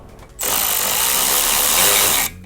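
A power tool drives a bolt down on a car intercooler in one loud, close, continuous whir lasting about two seconds, starting and stopping abruptly.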